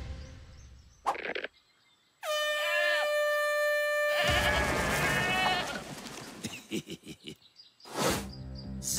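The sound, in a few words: mountain goats bleating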